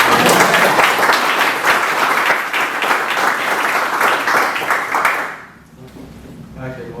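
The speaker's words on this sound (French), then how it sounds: "on l'applaudit" Applause from the audience at a municipal council meeting, loud and dense clapping from many people filling the room for about five seconds before stopping abruptly, followed by quiet room tone.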